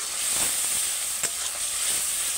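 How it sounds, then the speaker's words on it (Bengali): Spice masala frying in a pan for chicken kosha, a steady soft sizzle and hiss with a brief stirring scrape partway through. "মশলাটা আমি ভালো করে কষিয়ে নেব"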